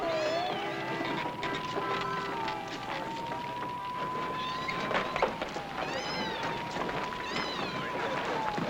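A cat meows repeatedly with rising and falling cries over a steady whistling tone and busy background noise, with a voice speaking under it amid a fire scene.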